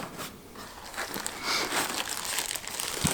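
Rexing V2 Pro dual-camera dash cam packaging being opened, with steady close crinkling and rustling of cardboard and plastic, a few sharper crackles and a brief snap near the end.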